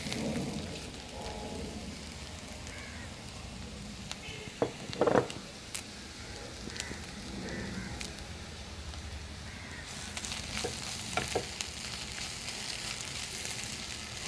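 Curry leaves dropped into hot oil for Kerala fish molee crackle and sizzle in a steady, rain-like hiss, with a few sharper pops around the middle and near the end.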